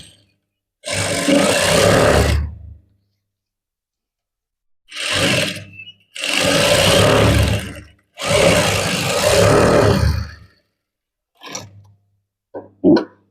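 Sewing machine stitching a maggam work blouse, running in three long bursts of about two seconds each with a short start between them, followed by a few brief clicks near the end, loud and close with no voices.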